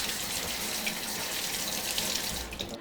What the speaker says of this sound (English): Just give them a quick rinse in their cool water.